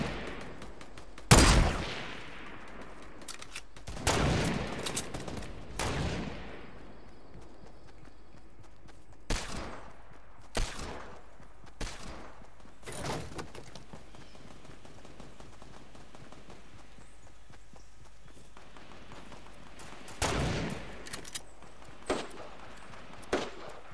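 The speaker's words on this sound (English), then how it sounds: "We're just shooting bushes now." Scattered bursts of gunfire in the Fortnite video game, during a 20-versus-20 match as bushes are shot at, with sharp loud reports and short rattling volleys separated by quiet gaps.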